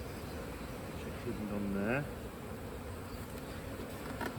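Honey bees buzz in a continuous close drone at an open beehive while colonies are being balanced, as someone speaks briefly over the hum partway through.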